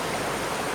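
River current rushing over a rocky bed at a clear-water natural spot in Asahan, a dense, continuous roaring wash of water, loud and close.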